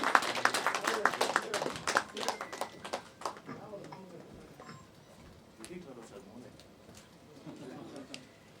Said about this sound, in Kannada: ದಯವಿಟ್ಟು ಚಪ್ಪಾಳೆ ಬರಲಿ